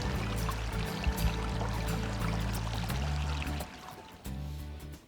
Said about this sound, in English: So then the water just drops out from the bottom.